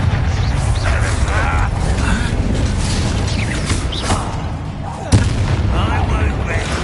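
Glacier and Incendio spells being cast in Hogwarts Legacy form a dense, continuous wash of loud magical combat effects: grinding, creaking bursts and booming impacts. A sharper hit lands toward the end, and a voice is mixed in beneath the effects.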